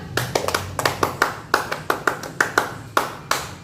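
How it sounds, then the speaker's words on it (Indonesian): Hands clap out the tepuk pramuka Scout clapping pattern as an ice-breaking game, sharp close claps in quick clusters with short pauses between groups, clear and alone. "Tepuk pramuka 1 tambah 1. Nah, berarti tepuk pramuka."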